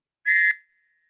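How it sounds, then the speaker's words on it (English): An English Bobby police whistle gives one short, shrill, trilling blast of about a third of a second, loud and close, ending abruptly into silence. "That sounds like an English Bobby whistle."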